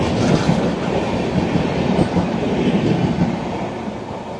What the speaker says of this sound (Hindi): वलसाड़ एयरपोर्ट के साथ कच एक्सप्रेस गई और उसके साथ एक बिजनेस डब्बा भी